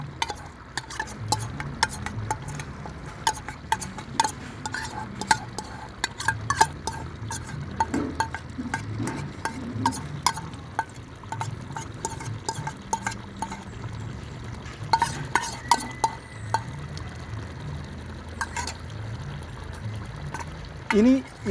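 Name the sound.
stirring and mixing chicken curry with cashew paste in a pan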